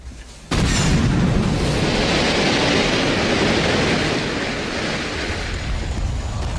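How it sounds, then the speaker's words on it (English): A seismic survey explosion goes off with a sudden loud boom, then a sustained roaring rumble of broadband noise that holds for several seconds and eases only slightly, with no speech. "Their explosions create shock waves of sound."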